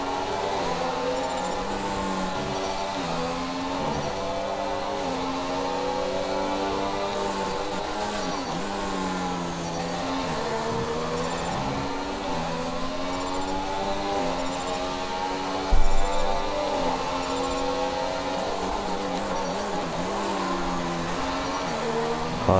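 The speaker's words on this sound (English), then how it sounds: "Car sounds really good on the downshifts." Race car engine in the F1 2016 video game, revving steadily at high pitch throughout with shifting tones as it downshifts, plus a brief sharp bump mid-way; no talking.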